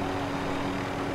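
A steady, droning helicopter rotor and engine hum from a Call of Duty game, continuous and fairly loud throughout a brief stretch.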